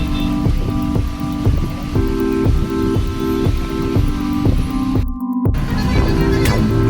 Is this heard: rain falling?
yes